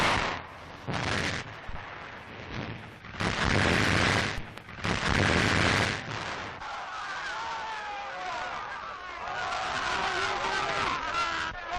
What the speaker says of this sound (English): And here go the first shells.